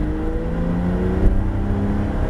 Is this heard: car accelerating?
yes